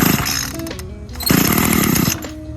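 Gas-powered lawn edger being cranked like a lawnmower, its small engine catching and buzzing loudly in rough bursts, dipping briefly and then surging again over about two and a half seconds, close by and with no talking.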